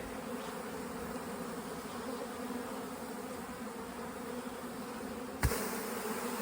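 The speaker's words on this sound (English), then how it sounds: "Look at all those young bees." Young honeybees inside an opened hive drone in a steady, dense buzz that holds evenly throughout, with a brief knock near the end and no talking.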